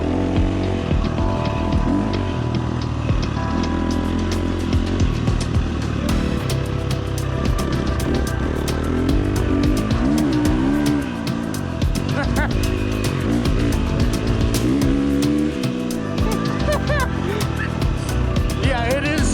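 A motorcycle running a Tokyo Mods Vortex ECU map revs and accelerates in repeated rising and falling engine sweeps, loud and close, with wind and road noise and a voice talking over parts of it.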